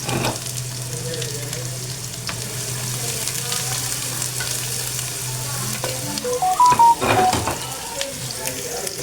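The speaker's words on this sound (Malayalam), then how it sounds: "പൊട്ടി വന്നോടെ ഞാൻ സവാള ഇട്ട് കൊടുക്കണം" Sliced onion frying in a pan for chicken kabsa, a close, steady sizzle with occasional stirring scrapes and some brief clinks near the end.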